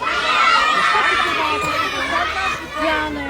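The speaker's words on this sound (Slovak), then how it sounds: "každý zakričí, jak sa volá" A crowd of children at a St. Nicholas Day gathering shout their names all at once, a loud, dense, overlapping roar of young voices that holds steady for several seconds.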